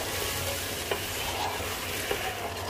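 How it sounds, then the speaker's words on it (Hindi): Chicken being stirred and fried in a pan with coriander powder, salt and masala, a steady close sizzle with a couple of soft spoon scrapes and no voices. "अब इन सारी चीज़ों को अच्छे से मिक्स करके भून लेंगे।"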